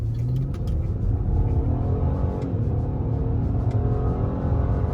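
A 2015 Ford Taurus SHO weighing about 4,300 pounds accelerates hard from a toll plaza toward 60 mph, its engine a loud, steady rumble with rising harmonics, heard from inside the cabin with no talking.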